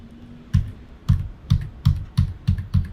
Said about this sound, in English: by pressing the plus button on keyboard